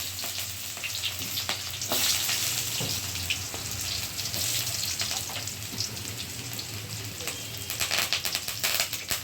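Onions fry in a hot pan for tomato gojju, a broad steady sizzle filling the whole stretch with occasional stirring scrapes and faint watery crackle, close and continuous with no talking.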